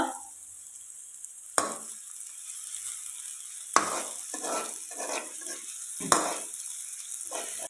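Onions sizzle steadily in a hot pan, a soft continuous frying hiss broken by a few sharp clinks of a utensil against the pan and brief stirring bursts, with no talk.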